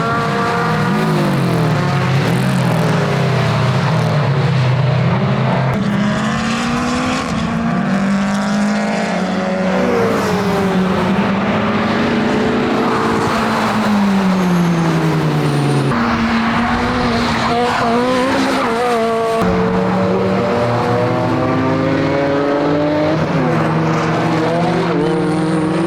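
A race car with a recently repaired gearbox laps a track at full power. The engine is loud and close, and its pitch rises and falls steadily through gear changes and corners.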